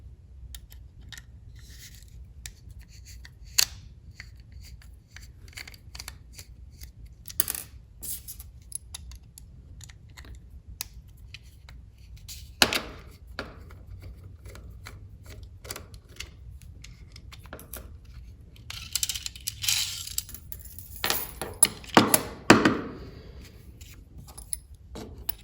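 A Phillips screwdriver backs two screws out of the base plate of a GSG-16 MP5 magazine, making faint, sparse metallic clicks and scrapes in a quiet room. A denser burst of rattling handling noises comes near the end.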